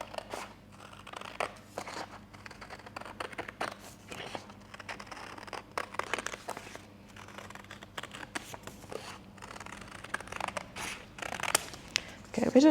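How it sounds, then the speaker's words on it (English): Scissors cutting a half heart shape out of a piece of card, a run of close, crisp snips and paper rustles, with occasional quiet speech in between. "So I'm going to cut this out."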